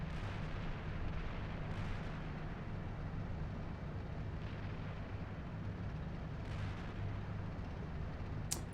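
Artillery fire in the tank simulator Steel Beasts Pro PE rumbles as a dense, continuous low roar, with a few faint distant booms and no speech.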